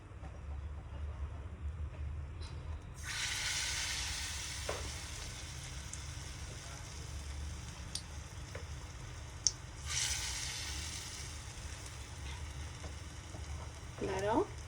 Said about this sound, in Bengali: এখন এটা দিয়ে আর কি আমরা চপটা ভাজবো